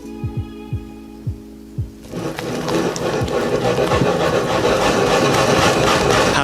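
Almond flour, wheat flour, baking powder and honey are mixed into egg whites and powdered sugar for a hazelnut financier batter. Soft music comes first, then steady, close scraping and rubbing from the mixing continues to the end.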